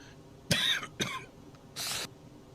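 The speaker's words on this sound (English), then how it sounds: "Oh my gosh, sorry folks, that came right out of the blue, that cough." A man coughs close to the microphone: two sharp coughs about half a second apart, then a rougher throat-clearing burst, alone over a faint background hum.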